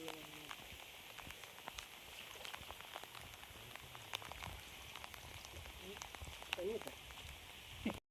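Steady rain falling in a misty outdoor spot during a fishing outing with friends, a dense, even patter throughout with occasional sharper drips close by and faint voices in the background.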